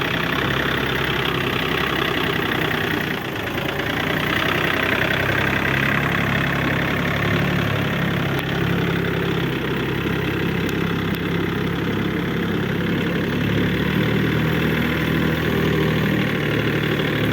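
A tractor engine idles steadily and loudly throughout, a constant low diesel rumble with a faint knocking rhythm and no pauses.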